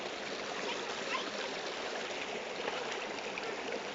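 A stream flows in a constant, even rush of water with no breaks, moderately close and steady throughout, with no voices over it.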